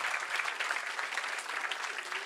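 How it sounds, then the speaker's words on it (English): An audience at a literature festival, the Western Ghats Lit Fest, applauds with dense, steady clapping that fills the whole short moment at an even, moderate level. "Another round of applause, please"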